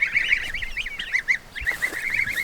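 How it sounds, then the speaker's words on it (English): Quacks from a small duck come in a quick, rapid series of short, nasal, honking calls, close and fairly loud, with a brief gap midway and then more quacking, with no speech. "Look at this little guy. This little duck."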